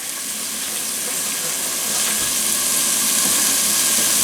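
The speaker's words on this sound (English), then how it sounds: "we're going to start rendering down here about a ½ pound of bacon, and we're going to let that get about halfway cooked" About half a pound of bacon frying in a cast iron pan, a steady dense sizzle and hiss that grows slightly louder and holds on, close up, with no speech.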